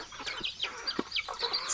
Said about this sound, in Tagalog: At ito naman yung makulit nating manok na